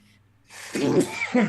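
One quick sneeze, close and sharp, with a breathy intake before the burst and a short trailing sound after it.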